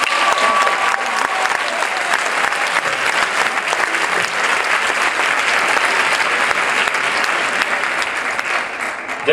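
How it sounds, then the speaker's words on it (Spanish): An audience applauds a speaker at a school event with dense, continuous clapping that stays loud and steady throughout. "Un aplauso para Hernán Comesaña."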